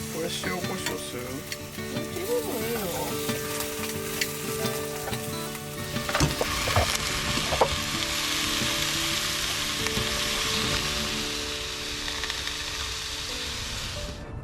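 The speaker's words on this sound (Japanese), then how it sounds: "椎茸とズッキーニ炒め物です" Shiitake mushrooms and zucchini stir-fry in a pan at a campsite, giving a steady, close sizzle that grows brighter and fuller partway through, with stirring clatter and occasional quiet voices underneath.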